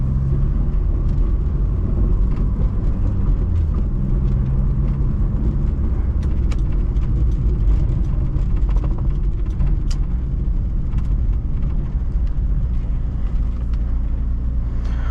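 From inside a Fiat Uno on the move, a steady, loud engine drone and rumbling road noise continue for the whole stretch with no break.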